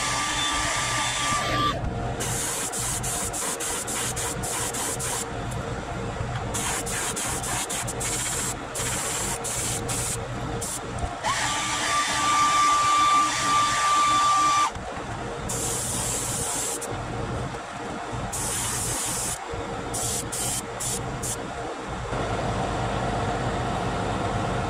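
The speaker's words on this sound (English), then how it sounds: "So I'm going to heat set this sucker, do that 2 or 3 times" A heat gun heat-setting paint on a hand-painted fishing bait, a loud continuous blowing rush with a faint whine that drops out and resumes several times.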